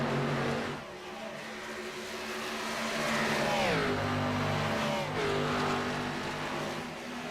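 Race cars on the final lap in an Xfinity Series racing video game, a loud sustained engine drone with rising and falling pitch sweeps as cars run side by side.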